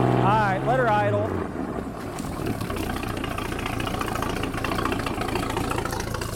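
A 1946 Century Sea Maid boat engine idles steadily, a close, low rumbling throb that continues through the clip, with a person talking over the opening second.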